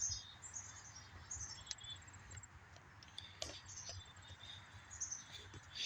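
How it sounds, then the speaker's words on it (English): Several birds chirp and call in high bursts over quiet outdoor ambience, the calls scattered and fairly faint. "Notice all the birds have come back and they're loud."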